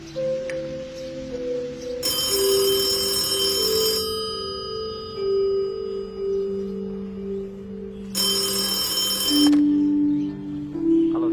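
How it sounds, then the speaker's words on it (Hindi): A telephone rings twice with an incoming call. Each ring is a bright, loud electronic burst lasting about two seconds, and a soft melodic tone plays quietly underneath the whole time. "ऋषभ बाबा का फोन है।"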